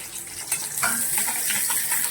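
Finely chopped small onion frying in oil, a close continuous sizzle with light crackles and stirring scrapes, steady throughout the short stretch.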